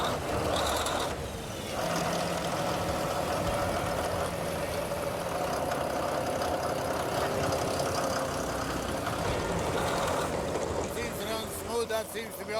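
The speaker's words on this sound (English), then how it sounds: "Engine is beautiful. Sounds way nicer than the other one." At a gold mine, a pump's diesel engine is jump-started with a pipe layer and runs steadily for the whole stretch, a loud continuous rumble with voices talking over it now and then.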